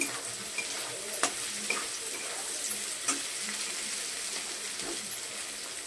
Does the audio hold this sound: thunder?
no